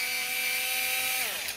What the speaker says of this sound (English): I'm going to use a drill because I can.